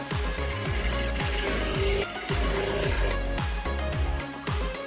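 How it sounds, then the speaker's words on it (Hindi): A sewing machine runs in quick, evenly repeating mechanical bursts, close and loud, as it stitches cords onto a Masaba-style blouse, with no voices. "मैं दोनों डोरी पे सिलाई लगा रही हूँ इस तरीके से।"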